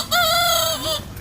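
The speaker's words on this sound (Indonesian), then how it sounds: "suara ayam" A chicken crows loudly and close by, one sustained cock-a-doodle-doo with a short clucking tail, heard alone without voices.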